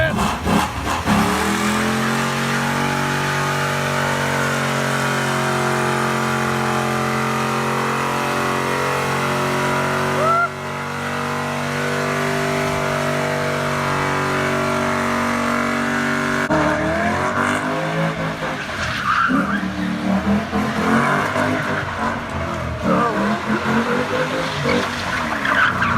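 A muscle car with traction control off accelerates hard, engine revving high with squealing, skidding tyres, then roaring away; voices shout in the background.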